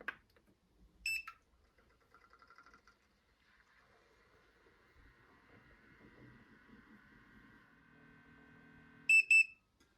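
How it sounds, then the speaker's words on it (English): A Lavazza A Modo Mio MilkEasy milk frother hums quietly with a whirring motor while frothing cappuccino milk, bracketed by short high electronic beeps at the start and a double beep at the end. "once the frother has beeped"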